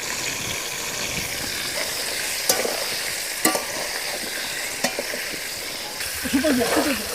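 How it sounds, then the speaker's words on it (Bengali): Pointed gourd (potol) frying in oil with turmeric gives a steady, close hiss of sizzling, broken by a few sharp clinks of a utensil against the pan and a brief faint voice near the end. "পটলটা কিছুটা ভাজা হয়ে গেছে"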